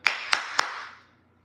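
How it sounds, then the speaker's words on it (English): Three sharp hand claps in an even rhythm, close and crisp, each a short snap, the last followed by a brief fading tail in a quiet room. "3 claps for Georgia."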